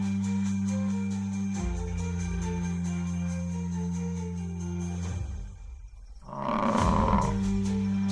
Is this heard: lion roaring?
yes